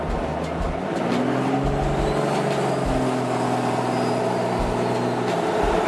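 A diesel Jeep fitted with compound turbos accelerating at quarter throttle, a steady deep engine drone with rising turbo whine, heard from inside the vehicle and holding at a constant loud level with no talking.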